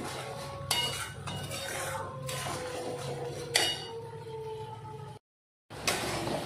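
Milk is added to prawn malai curry in a cooking pan and a lid goes on, bringing two clear metallic clanks over a low bubbling background, then a brief cut to silence.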